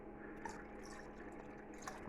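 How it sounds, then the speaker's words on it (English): About 200 grams of water poured into a measuring jug already holding 450 milliliters, a faint, steady trickling with small drips that runs alone throughout. "So let's add 200 grams of water."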